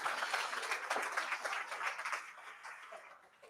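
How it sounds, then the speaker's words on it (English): Brief applause from an audience at a music and web3 talk, a steady patter of clapping that gradually tapers off, somewhat distant and soft. "let's give another applause to Kaimin and Alex as part of our speaker."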